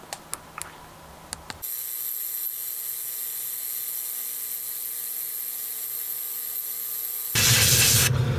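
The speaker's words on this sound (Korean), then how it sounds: "그 명품 킷만 몸을 담글 수 있다는 그 초음파 세척기입니다" A few faint taps, then an ultrasonic cleaner used for plastic model kits switches on with a steady high electronic whine and hum that holds, growing louder and harsher near the end.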